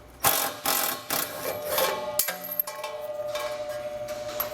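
A hand ratchet works on a 13 mm heat shield bolt under a 2021 Chevrolet, giving several close bursts of quick metallic clicking followed by softer ticking and light rattling.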